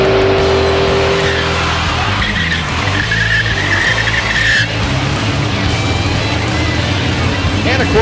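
A pickup truck racing down a drag strip at Great Lakes Dragaway, with loud, continuous engine roar, tire squeal and other cars nearby, while people talk over it.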